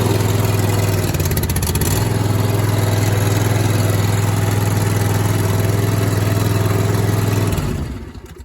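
A riding lawn mower's engine runs loud and close with a steady drone, its pitch shifting briefly near the start before settling, then cutting off and dying away at the end.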